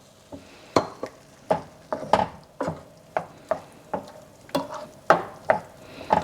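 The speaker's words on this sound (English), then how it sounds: "we're just gonna let this simmer for 4 minutes" Browned turkey in marinara sauce cooking in a pan over medium-low heat, with a series of sharp spoon scrapes and stirring knocks against the pan every half second or so over a faint bubbling simmer.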